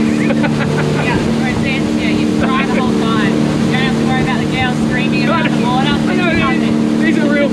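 A 2022 Invictus GT320 motorboat runs across open water, its engine droning loudly and continuously with rushing wind and water noise, while someone talks over it.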